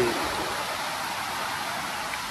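Floodwater from a heavy thunderstorm rushing across farm fields in Itkur, Dharashiv, a steady broadband roar of flowing water heard close and continuous with no talk.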